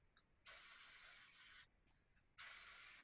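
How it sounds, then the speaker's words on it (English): Hairspray from an aerosol can sprayed onto a makeup puff, two loud close hissing bursts, the first lasting over a second and the second shorter after a brief pause. "I'm gonna use hairspray, and all I do is I spray it on a puff."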